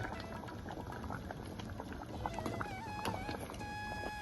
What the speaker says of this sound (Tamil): வெல்லம் சேர்த்தப்பறம் நல்லா கொதிக்க ஆரம்பிச்சிருக்கு